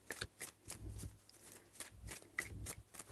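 Tarot cards are shuffled close up in a series of quick riffling bursts and soft papery slaps, with short pauses between the shuffles and no speech.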